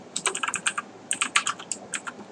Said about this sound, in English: sorry if my keyboard is louder, I switched keyboards to a mechanical keyboard